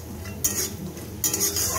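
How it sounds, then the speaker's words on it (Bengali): Pieces of brinjal fry in a pan with a soft background sizzle, broken by two sharp, louder bursts of hissing oil, with some stirring in between. "তো বড়ি ভেজে তুলে এই যে বেগুন কটাটি ভেজে নিই"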